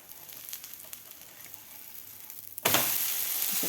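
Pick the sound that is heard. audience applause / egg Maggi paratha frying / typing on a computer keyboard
egg Maggi paratha frying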